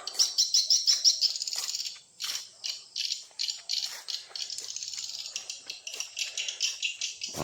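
Many small birds chirp in rapid, rattling bursts near a bird house at the far end of a village, a dense continuous twittering chorus with no talk.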